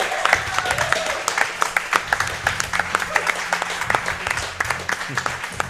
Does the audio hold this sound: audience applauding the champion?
yes